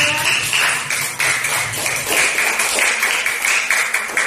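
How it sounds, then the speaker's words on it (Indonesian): A classroom group claps for a presenting group, giving several seconds of steady, fairly loud applause with sharp individual claps that carries on to the end. "Ya, beri tepuk tangan untuk kelompok"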